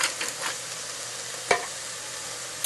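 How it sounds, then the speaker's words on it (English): Chitlins and hog maw sautéing in a pan with kosher salt, a steady soft sizzle and frying hiss with a couple of brief stirring clicks, fairly quiet and without talk. "while that's sauteing still, I add a little bit of"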